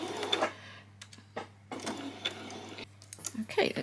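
A home sewing machine runs a short back stitch on a peasant top, its quick mechanical whir coming in a few brief bursts with pauses between, close and fairly quiet, with a faint steady hum underneath.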